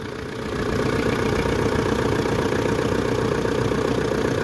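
A Mitsubishi Pajero/Montero diesel, jump-started in the middle of nowhere, settles into a steady, continuous idle after a brief rise at the start, a close, even mid-low engine drone with a faint knocking texture and no talk.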